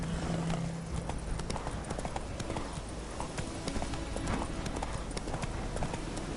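Horse hooves clip-clop steadily at a gallop in The Witcher 3 on PS4, a continuous close rhythm running the whole time with a faint low hum under it.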